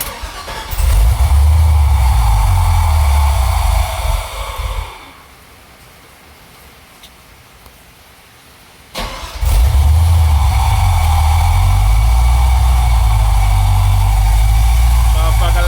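A 1980 Camaro engine runs loud and rumbling, cuts out for a few seconds, then cranks and fires back up into a heavy, steady idle close to the microphone.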